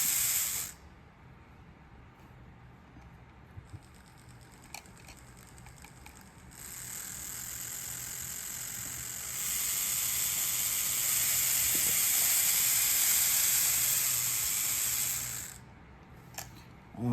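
The new motor in a Southern Pacific 4-8-4 model locomotive gives a faint whir with light mechanical ticks. It then swells into a brighter, louder whine for several seconds before winding down again.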